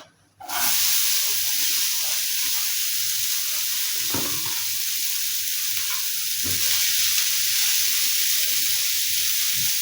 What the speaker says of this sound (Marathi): सगळ्या भाज्या सॉटे करून घेऊया.